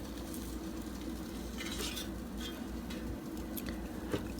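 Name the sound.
pork chops being flipped over in an air fryer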